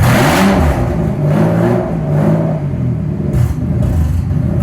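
Engine of a Mercedes SL600, raised on a lift with a newly installed transmission, revs in forward gear, rising and falling in short surges with a whirring drivetrain, close and loud.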